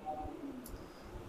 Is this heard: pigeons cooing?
yes